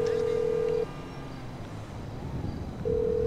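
Phone call being placed in Grand Theft Auto Online: steady dial-type tones that drop out and return, with game ambience and faint voices underneath.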